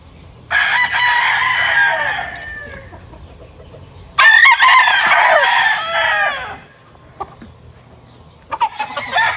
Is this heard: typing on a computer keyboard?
no